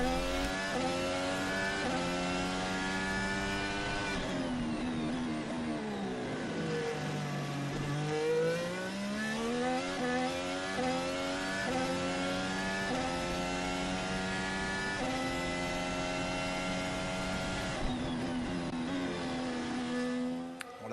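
Williams Formula 1 cars lapping the Bahrain circuit during Grand Prix practice, a loud continuous engine whine with rising and falling pitch through gear changes, steady and close throughout with no talk.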